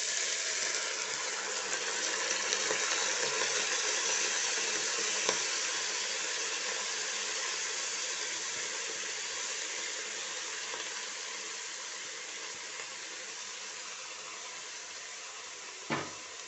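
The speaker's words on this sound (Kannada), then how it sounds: "ರೈಸನ್ನು ಸ್ವಲ್ಪ ಫ್ರೈ ಮಾಡೋಣ" Rice frying in ghee in a pan, a steady close sizzle that holds throughout with a faint clink near the end.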